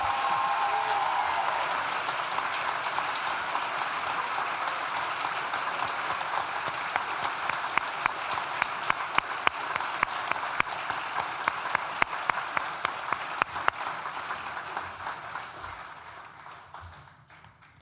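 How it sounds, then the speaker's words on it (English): Audience applause at a university graduation ceremony, a steady wash of many hands clapping throughout, building slightly with a few sharper claps before fading out at the end. "Now you can clap."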